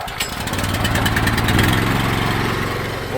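A pressure washer's small gas engine catches after choke and throttle are set, settling into a loud, close, rumbling putter with a rapid regular pulse and no talking.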